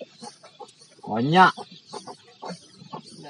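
A chicken gives one loud, strained cackle at a rice paddy, surrounded by softer intermittent clucks and rustling, with a person speaking briefly nearby.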